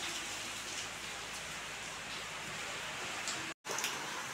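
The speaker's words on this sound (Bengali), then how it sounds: "প্রচুর বৃষ্টি হচ্ছে, বৃষ্টি একদম বন্ধ নেই, আর ঝড়ও হচ্ছে, হাওয়াও হচ্ছে।" Heavy rain falls in a stormy, windy downpour, making a constant, even hiss of drops close by with a momentary dropout near the end.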